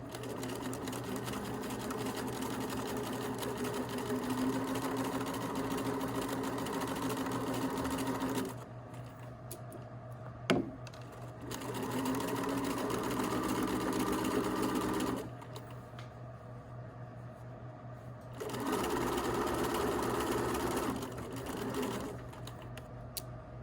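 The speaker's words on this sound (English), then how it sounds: "So you can just turn it by hand instead of using the foot pedal, and that way you don't break the needle." Sewing machine hemming a skirt, running in three rapid stitching bursts separated by pauses with a soft click between, quiet and close.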